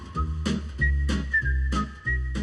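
Someone whistles a theme tune: a bright, steady melody with sustained notes, loud and close, over a low rhythmic accompaniment with no talking.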